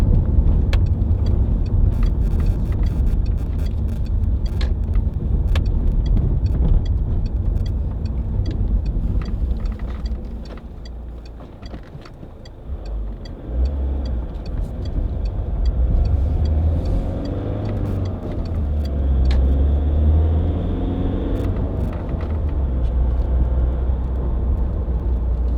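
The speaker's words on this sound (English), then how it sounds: "It's a nice MPV to drive." Peugeot 807 2.0 HDi MPV, a 2007 Executive model, driving with a steady, continuous road and engine rumble that dips briefly midway and then resumes at a similar level, with no talk over it.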